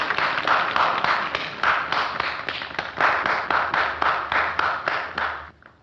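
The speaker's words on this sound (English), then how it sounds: "I was gonna go with the clapping" A steady round of hand clapping from a scene in the 1941 film Citizen Kane, a rhythmic series of sharp, close claps that repeats evenly and then stops.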